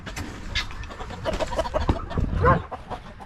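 Hens and roosters in a pen cluck and call close by, a busy overlapping stream of short clucks with one louder squawk near the end, over a low farmyard rumble; no voices.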